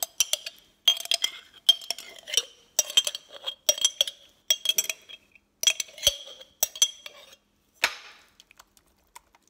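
Spinach emptied into a frying pan: a busy run of bright clinks, rattles and crackly rustles in short bursts, close and fairly loud, then thinning out toward the end, with no talk.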